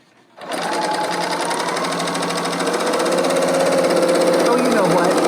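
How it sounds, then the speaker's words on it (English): An L890 serger sewing machine stitches over an existing seam, starting up after a brief pause and running as a fast, steady mechanical whir with rhythmic clatter, loud and close. "We're sewing on top of another seam."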